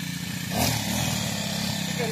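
A small grass cutter engine runs steadily on a farm, a continuous buzzing drone with a brief louder swell, heard close with people talking over it.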